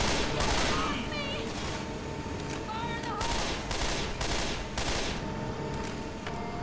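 Loud, rapid automatic fire from a SCAR rifle in the video game Left 4 Dead, crackling in dense, overlapping bursts that run almost without pause, mixed with other game noise.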